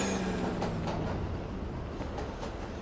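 Steady rolling rumble of a Roblox Jailbreak train gathering speed, with faint rhythmic clicks of wheels on track spaced through the sound, moderately loud and with no voices.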